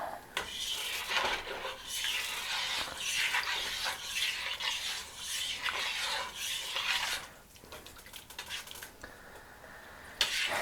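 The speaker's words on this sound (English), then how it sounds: "just kind of sprinkling quite a bit in there. Then we will stir it up." A spoon stirring seasoning into beef stew in a pot, continuous scraping and wet stirring strokes in an uneven rhythm, close and moderately loud, with a short pause and a final clink.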